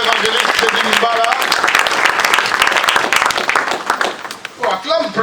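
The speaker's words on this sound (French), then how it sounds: "Est-ce que nous pouvons le recevoir avec vos acclamations?" Church congregation applauding and cheering for a visiting evangelist, with dense sustained clapping and crowd voices that thin out near the end as a voice calls over them.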